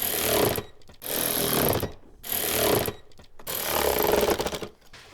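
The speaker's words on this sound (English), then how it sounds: "We'll tighten the 4 screws we loosened on the airbox." A power driver tightens screws on the airbox of a 2009–2015 Honda Pilot, running in loud whirring bursts of about a second each, repeated four times with brief pauses between.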